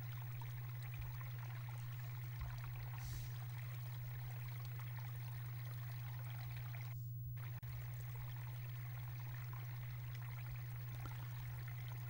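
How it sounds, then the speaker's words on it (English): A transparent, unbroken curtain of falling water pours steadily around a circular enclosure in the Alnwick Castle garden, giving a constant, close rushing wash with a low steady hum beneath and no talk. "A single curtain in the form of a transparent, clear, unbroken membrane of falling water wraps around a circular enclosure"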